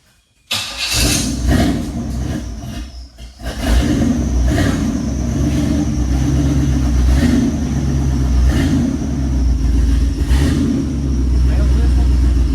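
A 4x4 Chevy van engine cranks, catches and starts, then revs and settles into a loud, rumbling run with repeated throttle swells, close by, with people talking over it.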